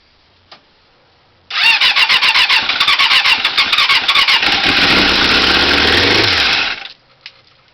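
A motorcycle engine cranks and fires up, roaring loudly with rapid popping revs for about five seconds before cutting out, then a brief sputter.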